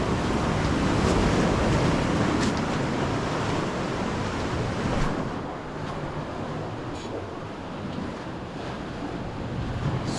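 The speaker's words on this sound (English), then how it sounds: "You can imagine the force of some of these waves that chip away all this rock" Ocean waves crash and surge steadily near a rocky sea cave on a jungle coastline, a loud continuous roar of surf with wind buffeting the microphone and no talking.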